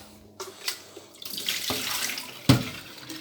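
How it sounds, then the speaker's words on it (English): Tap water runs into a kettle in a home kitchen, a steady close splashing stream with a few brief clunks of the kettle being handled. "fill the kettle itself with water."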